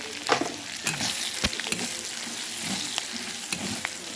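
Steady sizzle of spices and turmeric powder frying in oil, with a few sharp scraping clicks of stirring scattered throughout; close and moderately loud, no voices.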